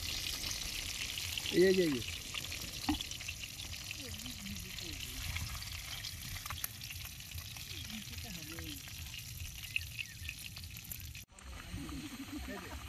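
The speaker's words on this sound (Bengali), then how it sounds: "দেখো বন্ধুরা, তরকারি রান্না হচ্ছে।" A curry bubbles and sizzles in a pot over a campsite fire, a steady close frying hiss with stirring sounds as someone talks over it.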